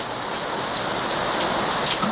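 Steady, loud rain falls continuously, a dense even hiss of drops on surfaces with no voices over it.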